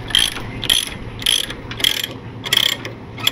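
Ratchet load binder being tightened on a trailer chain tie-down, a series of about seven evenly spaced, sharp metallic clicking bursts, close and loud, with no talking.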